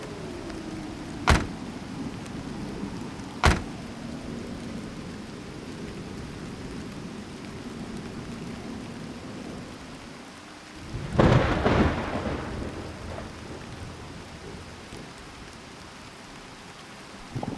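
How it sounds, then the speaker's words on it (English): Heavy rain pours steadily during a thunderstorm on the Hinota Plateau near an old abandoned watchtower, with two sharp close thunder cracks early on and a long, loud rumbling roll of thunder later. "we are in the middle of a thunderstorm"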